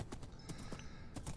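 Minecraft donkey, heard faintly as a few soft, evenly spaced hoof-like steps plodding close by, with no talking.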